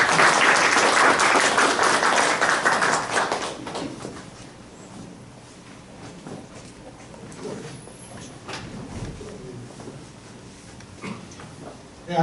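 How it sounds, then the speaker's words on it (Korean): At a blockchain cryptography talk, an audience claps to welcome a speaker. Loud, dense clapping fills the first few seconds and then fades, leaving quiet room noise with faint shuffling and small knocks. "박수로 맞아주시면 감사하겠습니다."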